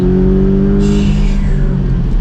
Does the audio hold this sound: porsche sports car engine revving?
yes